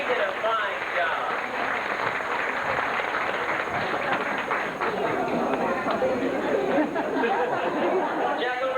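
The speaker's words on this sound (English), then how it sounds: "How about a nice round of applause for Jacqueline, folks?" Audience applause and crowd chatter fill the stands at an outdoor bird show in 1989, a steady, dense wash of clapping and voices continuing throughout without a break.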